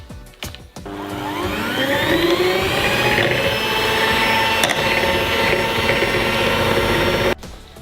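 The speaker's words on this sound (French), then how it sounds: "je vais pouvoir la monter à l'aide de mon batteur comme une crème chantilly" An electric hand mixer whips chilled cream into chantilly for a gravity cake, a steady loud motor whine that holds on continuously with a rising pitch before cutting off abruptly near the end.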